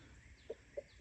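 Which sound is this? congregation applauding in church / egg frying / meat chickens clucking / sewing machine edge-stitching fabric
meat chickens clucking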